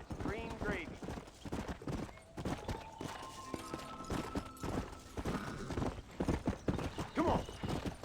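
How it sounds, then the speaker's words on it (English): Horses in a western video game clip-clop with rhythmic hoofbeats and neigh loudly in places, while characters talk over the trotting and faint music plays. "Look at these here horses."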